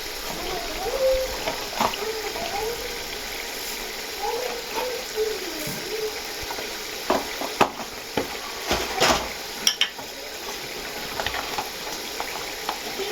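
Cumin seeds sizzle and fry in a pan with ginger-garlic paste, a steady close crackle with occasional stirring clatters, and a voice speaks briefly over it.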